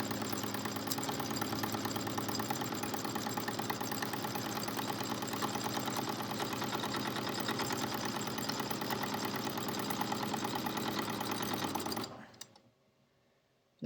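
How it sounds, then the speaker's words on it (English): A sewing machine stitches steadily along the edge of a zipper pouch, a close, even, rapid mechanical whir that holds for about twelve seconds and then stops abruptly, leaving near silence. "I'm sewing right along the edge."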